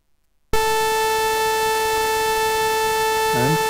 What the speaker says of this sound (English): here is the sound of a saw wave.